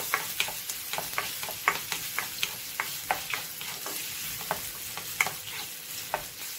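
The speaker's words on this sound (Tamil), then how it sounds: "ஒரு ரெண்டு வெங்காயத்தை பொடியா கட் பண்ணி வச்சிருக்கேன் அதையும் சேர்த்துக்கலாம் நல்லா வதங்கட்ட வெங்காயம்" Finely chopped onions sautéing in a pan for a Karpooravalli rice dish, with a continuous sizzle broken by regular scraping clicks of a spoon stirring through them, close and clear, with no voices.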